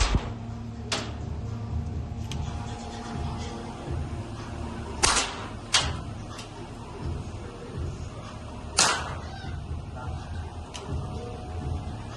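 Real guns fired at a shooting activity in a Mumbai activity park: a few sharp, distant cracks spaced seconds apart over a steady indoor hum, with faint voices in the background.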